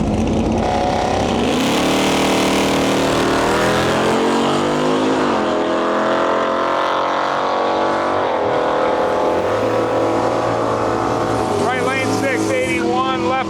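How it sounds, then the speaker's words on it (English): A gasser drag car roars down the drag strip at Canada's Miles of Mayhem 2026 drag and drive, its loud engine holding a steady, rising howl close by for the whole run, with voices faintly underneath. "And we got a gasser in our lane."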